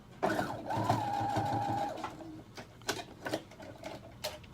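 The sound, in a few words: sewing machine sewing a back stitch on a scrunchie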